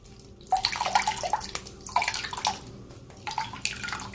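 Zobo, a hibiscus drink, is poured through a sieve in bursts of splashing liquid. The trickles and drips come with short pauses between pours, close and clear, with no talk.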